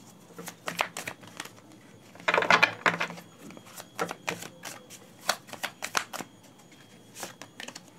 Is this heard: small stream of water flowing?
no